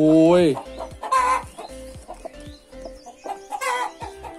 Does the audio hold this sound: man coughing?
no